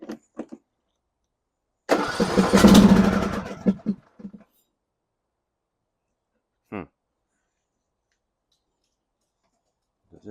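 A John Deere mower with a no-start fault cranks once for about two seconds, close and loud, then falls silent, with a few faint clicks and short handling noises after it.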